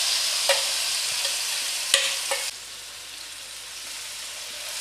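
Paneer in yogurt hitting a hot pan over high flame, a steady broad hiss of sizzling with a few sharp clicks early on, then settling into a softer continuous sizzle, close and fairly loud.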